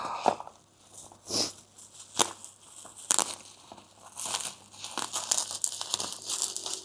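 Plastic packaging opened and torn by hand, with irregular bursts of close crinkling and sharp tearing separated by short pauses, no talking.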